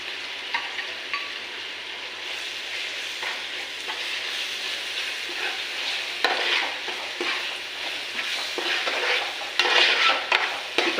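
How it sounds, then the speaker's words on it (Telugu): A poppy seed and coconut paste is stirred and fried in a pan, giving continuous sizzling with scraping stir strokes and occasional clinks of the utensil, close and steady with no voices. "ఈ గసగసాల పేస్ట్ ఇదంతా బాగా వేగే వరకు కొద్దిసేపు తిప్పుదామండి."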